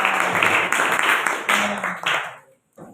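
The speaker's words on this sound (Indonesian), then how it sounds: "Terima kasih tepuk tangan untuk Mas Fatir" Students in a classroom clapping for a classmate after a presentation, a brief close burst of hand claps with uneven pulses that fades out, followed by a faint sound.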